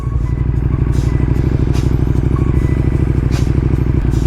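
A motorcycle idles steadily and loudly up close as the clutch is slowly let out to creep forward at walking pace, with a low even engine throb throughout.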